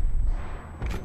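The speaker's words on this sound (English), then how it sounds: "Who's shooting rockets?" Booming rocket fire in the video game Call of Duty Black Ops 4, deep rumbling blasts close by, with a second impact near the end.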